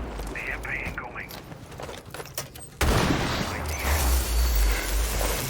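A Rainbow Six Siege match with sharp gunfire cracks and short bursts scattered over game noise, then a sudden louder, denser stretch of shooting and rumble, with voices talking over it.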